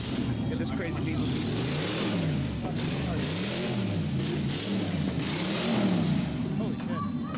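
A twin-turbo diesel car of about 1,300 horsepower revving at a New Year's Eve party at a supercar venue, its loud engine note rising and falling in repeated pulls while people talk nearby.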